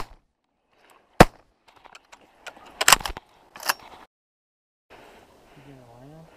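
Several sharp, loud shotgun blasts during a duck hunt in Nevada, irregularly spaced with two close together, followed by quiet talk from the hunters.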